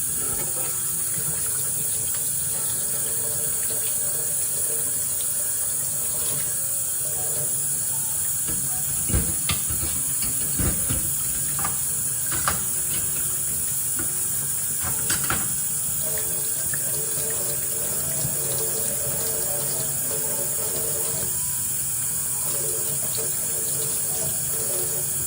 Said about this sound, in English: Spraying water everywhere today.